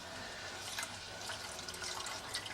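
Whole milk pours slowly into a flour mixture, a faint steady liquid trickle with soft splashing that runs throughout.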